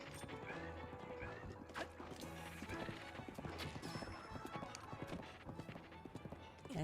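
Horse hooves clip-clopping and a horse neighing in the video game The Legend of Zelda: Breath of the Wild, rhythmic hoofbeats throughout with a whinny, over game music and crashing effects, fairly faint.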